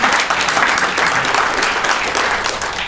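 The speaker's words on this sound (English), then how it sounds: "So I'd like to give him a round of applause." Audience applause at a community organization's sixth anniversary celebration, a loud, dense burst of clapping filling the space evenly from start to finish.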